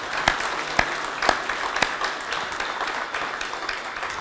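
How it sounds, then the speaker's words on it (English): Audience applause at a groundbreaking ceremony for the SFO Terminal 1 renovation, honouring a retiring airport director. The clapping is steady and moderate throughout, with a few sharper individual claps standing out near the start. "Big round of applause for John"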